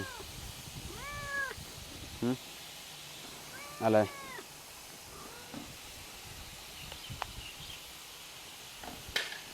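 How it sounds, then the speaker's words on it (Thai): A cat meows several times at a Thai temple, with a cluster of rising calls near the start and louder cries midway, close by over faint background noise; a person speaks briefly. "อ้าวแมว"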